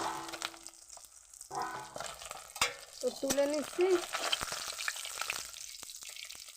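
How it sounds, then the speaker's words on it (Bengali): Seven pieces of pabda fish sizzle and crackle as they fry in hot oil in a pan, fairly quiet and close, while a voice speaks briefly over the frying and pieces are lifted out. "সুন্দর ভাজা হয়ে গেছে একদম, খুব সুন্দর।"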